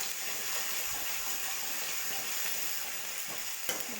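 Ginger garlic paste frying in oil for fish curry, a steady close sizzle and hiss throughout with occasional light stirring.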